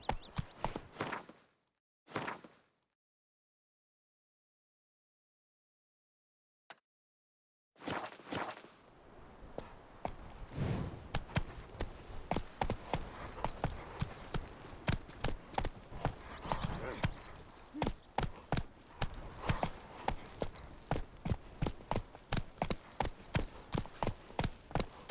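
Roach the horse gallops in The Witcher 3, with rapid, rhythmic hoofbeats close and loud for most of the stretch after a few isolated thuds and a silent gap.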